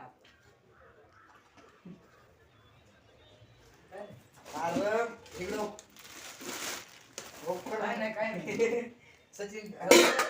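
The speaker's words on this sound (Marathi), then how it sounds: "फोडणीचा डब्बा," Metal kitchen utensils, including a spice tempering box and a kadhai, clink and clatter in scattered bursts as they are handled nearby, mixed with someone talking.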